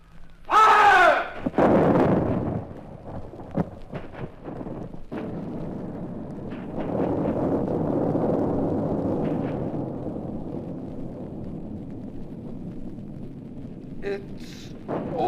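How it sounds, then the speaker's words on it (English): A cannon salvo explodes against a fort and destroys it, a loud booming burst near the start followed by a long rolling rumble of debris that slowly fades, with faint voices and a couple of sharp pops near the end. "It's awesome, sir, that blast."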